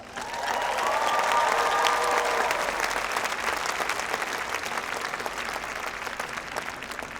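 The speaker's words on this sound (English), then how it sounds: "let's start by giving ourselves a big round of applause" Applause from a university commencement audience at an Integrative Biology graduation ceremony, a dense, sustained round of clapping that swells quickly, holds steady and then tapers slightly, filling the whole stretch with no speech over it.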